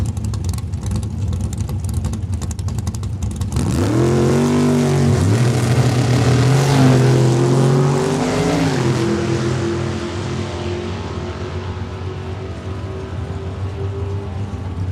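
Drag race cars accelerate down a track at Saskatchewan International Raceway, a loud engine roar swelling after a few seconds of rough rumble, pitch climbing and holding, then fading into a distant drone.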